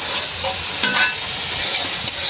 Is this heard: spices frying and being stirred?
yes